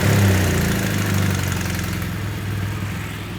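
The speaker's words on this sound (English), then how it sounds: "now we have to start the bike for the oil filter to get some oil" A BMW R1200GS motorcycle engine idles steadily close by, a loud continuous low rumble with no talk over it.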